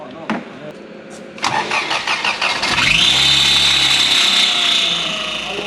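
A Toyota Hilux with a 1UZ V8 and T88 turbo cranks with quick stuttering turns, catches, and roars into a loud, steady idle with a rising whine close by.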